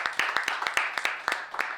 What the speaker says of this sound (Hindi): पार्टनर के लिए ज़ोरदार तालियां बजाएं